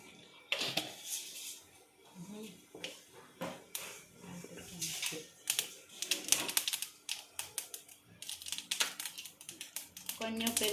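Mustard seeds crackle and splutter in hot ghee and oil, a dense run of sharp pops and sizzles close by that quickens toward the end, with a voice speaking over them.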